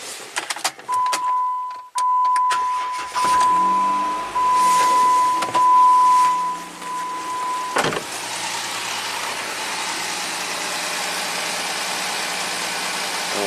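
A Jeep Wrangler that went through water, with a battery not charging, idles steadily nearby, preceded by sharp clicks, knocks and a steady electronic tone.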